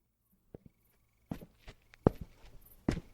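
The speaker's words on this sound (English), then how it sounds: "The man's boot heels rhythmically thumped the pavement." Boot heels thump on pavement in slow, irregular footsteps, a few soft early steps followed by heavier, sharper strikes against a quiet background.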